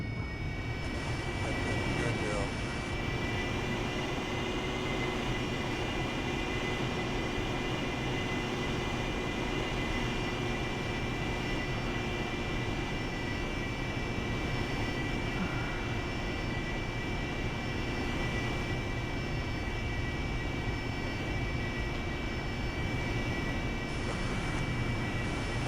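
An AV-8B Harrier jet taxis in the DCS flight simulator game, its engine producing a steady, loud cockpit drone and whine throughout without break.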